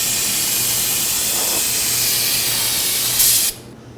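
Brake cleaner sprays from an aerosol can onto a drum brake assembly on a 2013-2019 Nissan Sentra. One loud, close, continuous hiss lasts about three seconds, then stops abruptly into quiet.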